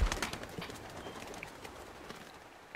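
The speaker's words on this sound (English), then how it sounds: "Goddamn stupid birds." Birds fluttering and calling in The Walking Dead Telltale video game, with scattered soft wing flaps, taps and brief chirps over a faint, steady background, heard alone with no talking.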